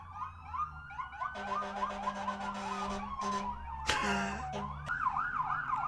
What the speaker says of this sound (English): I guess the ambulance wants to do the outro this time.